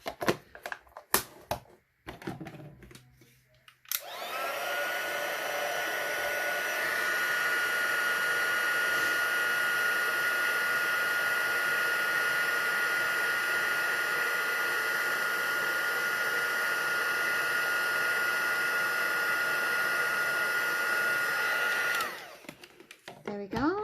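A heat tool blows steadily on a stamped craft card, a loud continuous whoosh for most of the stretch after a few handling knocks, then cutting off near the end.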